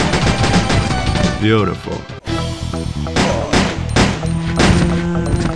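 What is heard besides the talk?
gunfire in burst mode, Resident Evil Code Veronica video game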